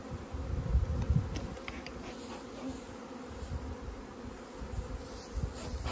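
A dense, steady buzz of many honeybees on open hive frames close by, droning continuously with slight swells in loudness.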